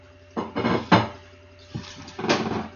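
Dishes and pots clatter while dinner is being set up on an evening at home, several separate clanks and knocks in short bursts with quiet pauses between, fairly close.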